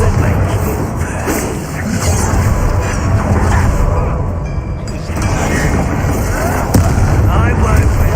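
Confringo, a fiery blast spell cast during a Hogwarts Legacy duel, erupts in loud, sustained booming bursts with crackling impacts over continuous game noise for several seconds.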